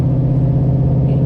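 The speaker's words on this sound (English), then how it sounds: "you've still got that glorious V8 bellow" A 2017 Pilgrim Motorsports AC Cobra with an all-aluminium V8 gives a loud, deep, continuous bellow, a steady low drone that holds throughout with no talk over it.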